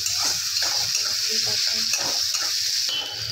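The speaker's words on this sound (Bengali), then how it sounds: "পেঁয়াজটাও কিন্তু হালকাই ভাজা হবে, বেশি লাল লাল করে ভাজবেন না" Chopped onions fry on a low flame for a pasta dish, giving a continuous close sizzle broken by rhythmic spoon-stirring scrapes against the pan.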